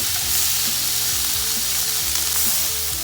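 Oil and butter sizzle steadily in a hot pan, a constant crackling hiss, close up, with faint scraping of a utensil underneath and no talking.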